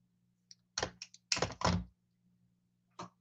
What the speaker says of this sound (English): Some make a clicking sound. So you know where you at.